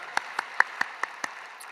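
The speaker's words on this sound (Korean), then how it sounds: "우리 하나님께 영광의 박수 드리도록 하겠습니다." A church congregation at a Korean dawn worship service claps together in unison, six sharp, evenly spaced claps in a quick steady rhythm that then trail off.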